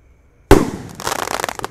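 Roman candle fireworks, a large 1.9-inch type, fire outdoors: after brief quiet, a loud sharp launch burst is followed by a rapid crackling series of pops that stays near and energetic.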